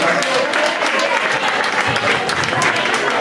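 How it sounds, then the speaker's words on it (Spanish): Steady, dense clapping from a pub concert crowd fills the whole stretch, with some voices mixed in beneath. "También le vamos a dar un fuerte aplauso a Alberto"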